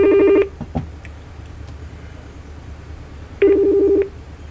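A mobile phone sounds two bursts of rapid electronic beeping tones, one at the start and one near the end, loud and close in a quiet outboard-engine repair workspace, with faint clicks between them.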